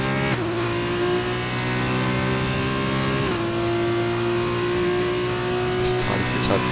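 Race car engine in rFactor 2 pushing on a warm-up lap at the Austrian GP, a steady loud droning tone with shifting pitch, with a commentator talking over it.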